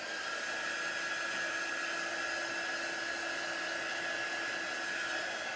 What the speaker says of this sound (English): You can heat it with a hair dryer